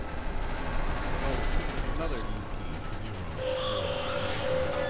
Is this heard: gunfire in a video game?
yes